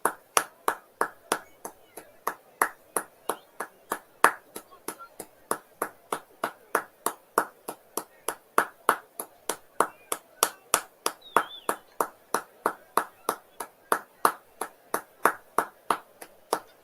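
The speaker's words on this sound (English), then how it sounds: "Impeccably observed, the minute's applause. All sides of Anfield applauded that" A single pair of hands claps in a steady, even rhythm of sharp, close beats repeating for the whole stretch during a minute's applause at Anfield, with no wider crowd roar evident.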